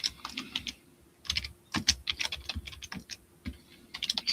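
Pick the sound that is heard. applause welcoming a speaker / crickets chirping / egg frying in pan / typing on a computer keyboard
typing on a computer keyboard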